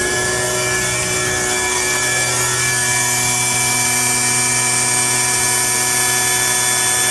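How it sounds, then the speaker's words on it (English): Electric-over-hydraulic jacks on a LQ Cimarron horse trailer run with a steady loud motor and pump whine, holding a constant tone with a slight shift in pitch partway through. "we're looking at the electric jacks, electric over hydraulic"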